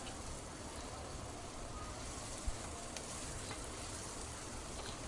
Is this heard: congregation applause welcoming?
no